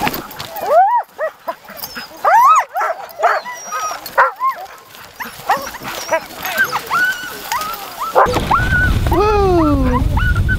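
Sled dogs at a snowy Yukon kennel in the cold bark, yip and whine excitedly in rising, overlapping bursts, close and loud, before a harness-ready din of movement takes over near the end; voices may be faint among them.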